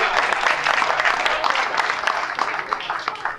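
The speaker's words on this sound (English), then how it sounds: "So I'd like you to give yourselves a round of applause." An audience at a chamber of commerce business appreciation night gives a lively round of applause, a thick, even patter of many hands clapping close and steady for a few seconds.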